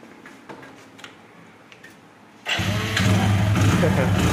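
A secondhand BS6 motorcycle in a bike showroom is started on its self-starter: a few quiet clicks, then at about two and a half seconds the engine catches and settles into a loud, steady idle close by, with people talking.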